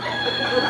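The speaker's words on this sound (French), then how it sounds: "Maman poule." A hen gives a short, drawn-out clucking call up close, a brief sustained vocalization.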